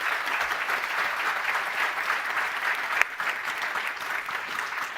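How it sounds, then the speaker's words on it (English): Conference audience giving a long, sustained round of applause for the expert speakers, an even wash of many hands clapping at steady loudness with one sharper clap near the middle. "Could you please give them a really big applause,"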